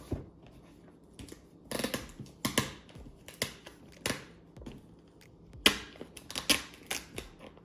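Packing tape peeled off an Xbox Series S box, heard close up as a series of short crackling rips separated by brief pauses.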